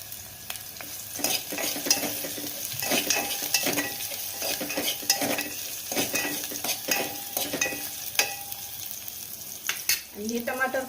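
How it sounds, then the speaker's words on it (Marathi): Green chillies and softened onion frying in oil for appe batter, a steady close sizzle broken by repeated clinks and scrapes of a spoon stirring against the pan, with a brief louder clatter near the end. "मिरच्या टाकूया तळून"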